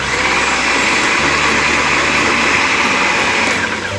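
A food processor runs continuously while blending a thick vegan burger mixture, a loud, close, steady motor whir with a slight pitch change partway through, and no talking.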